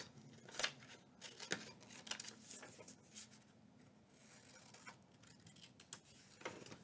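Scissors trimming paper for a lapbook, giving several quiet snipping bursts with soft rustling and handling of the paper in between, faint and close.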